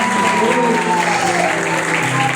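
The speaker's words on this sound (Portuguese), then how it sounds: "Aplauda mais forte para o Senhor." A church congregation claps loudly together during a worship service, a dense continuous roar of applause with a sustained voice or tone running underneath.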